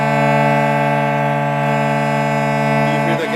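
Two steady tones a slightly out-of-tune perfect fifth apart, loud and sustained, clashing with a wavering beat before shifting near the end.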